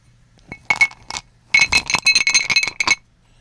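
Something clinks and rattles into a glass close up, a few sharp taps followed by a longer burst of rapid, bright clattering that stops abruptly; no talk.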